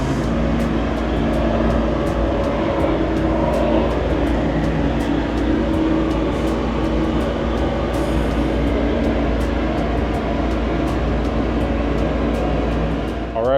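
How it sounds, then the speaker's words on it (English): An Aqua Blast parts-washing machine cleans an intake manifold with a dense, continuous rumbling hiss of spraying and churning that holds steady and loud throughout, with no talk over it. "I just finished up in the Aqua Blast machine"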